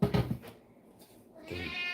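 A house cat meows once near the start, close and fairly loud, followed by quieter indoor rustling and a faint high-pitched tone toward the end.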